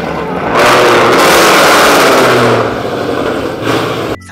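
Ford Mustang engines roar loudly nearby, a sudden burst of revving that holds at full strength, then eases slightly and surges again before cutting off abruptly at the end.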